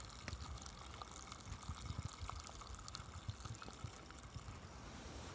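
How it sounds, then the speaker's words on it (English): Soft fizzing and crackling of a carbonated drink in a can, faint and close, with tiny irregular pops throughout and no voices. "You can hear the bubbles, can't you?"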